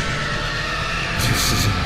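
A train rumbles past in the Blood Crossroad horror video game, a loud, continuous roar of rolling wheels and carriages that swells slightly toward the end, with no talk over it.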